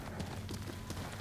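Horse hooves clopping steadily at a gallop in Ghost of Tsushima, a rhythmic run of muffled beats under a low game-ambience hum.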